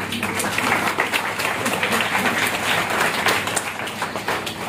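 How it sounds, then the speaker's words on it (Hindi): Loud, continuous applause from a school audience, dense clapping filling the whole stretch at an even level with a faint murmur of voices beneath. "तालियों में कमी ना रखें।"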